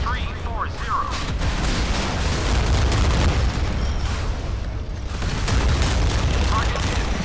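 Missile launches and gunfire from the naval combat game Modern Warships, a dense continuous barrage of booms and bursts with a few short whistling tones, loud throughout and under a voice calling out.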